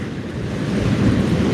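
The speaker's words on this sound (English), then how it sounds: "The wind's getting to me." Steady wind rushing and buffeting at sea around a kayak angler, blending with the low wash of waves and microphone wind noise, continuous and loud throughout with no speech.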